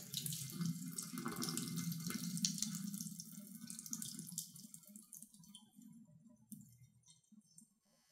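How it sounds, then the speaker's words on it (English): Cold tap water runs and splashes steadily as freshly made butter is rinsed to wash away buttermilk, then tapers off into quieter trickles and drips near the end. "Now rinse with cold water"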